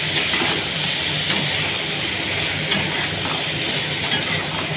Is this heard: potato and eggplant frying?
yes